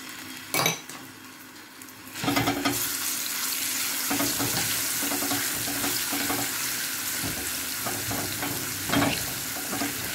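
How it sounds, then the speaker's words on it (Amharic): Garlic and ginger hit a pan with olive oil, erupting into a loud, continuous sizzle with a few sharp clanks of utensil on pan. "መጥበሻውን አገድና ነጭ ሽንኩርትና ጅንጅብሉን ጨምራለሁ ማለት ነው"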